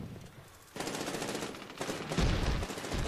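Sustained automatic gunfire in the shooter Medal of Honor Warfighter, a continuous dense rattle that grows louder after a moment and keeps going with heavier bursts toward the end.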